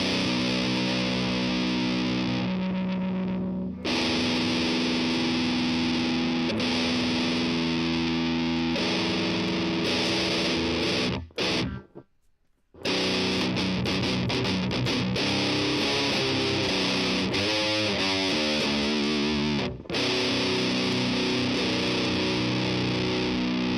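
Distorted electric guitar lead tone from the Tonebridge app on iOS, played loud and continuous with heavy saturated chords and riffs, a brief dropout near the middle, then resuming.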